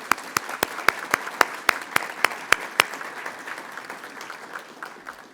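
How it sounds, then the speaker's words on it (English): Applause at a graduate hooding ceremony: a crowd claps steadily while one nearby pair of hands strikes sharp, evenly spaced claps for about three seconds before the overall clapping thins out. "giving you all a round of applause"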